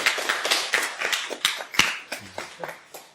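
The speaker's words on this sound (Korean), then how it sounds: "잠깐 인사할 때 우리 환영에 박수를 부탁드리겠습니다" A church congregation claps in welcome for a young visitor, scattered hands striking at an uneven rhythm, moderately near and fading toward the end, with a faint low murmur underneath.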